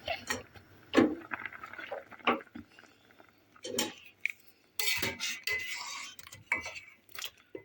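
Cooked mantı dumplings lifted out and served onto a plate, with close clinks and scrapes of a metal spoon against pot and dish and a few wet plops, in irregular bursts with pauses.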